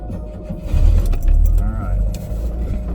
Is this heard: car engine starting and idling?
yes